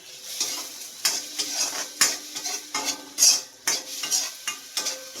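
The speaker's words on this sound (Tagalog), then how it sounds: "Sunod na natin yung sibuyas." Onions go into a pot during preparation of sinabawang bangus, a Filipino milkfish soup, giving close, repeated stirring scrapes and clinks of a utensil against cookware, with light sizzling in between.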